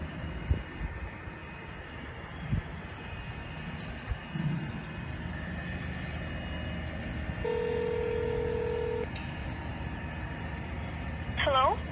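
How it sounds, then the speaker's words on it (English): Phone dialing tones beep in a short sequence, followed by a steady held tone and a ringing warble, over a low background hum. "I'm gonna make a phone call."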